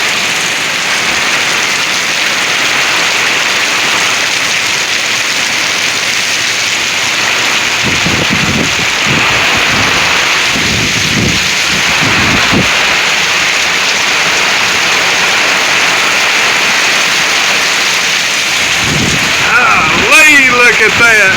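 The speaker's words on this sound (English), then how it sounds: "Yeah, this is 60-mile-an-hour wind here." Strong wind gusts roar through treetops during a severe thunderstorm in Oklahoma, a steady broadband rush with rain, swelling into louder gusts midway and again near the end, with people talking in between.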